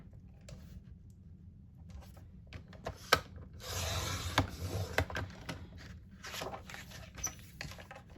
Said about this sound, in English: let's get out our trimmer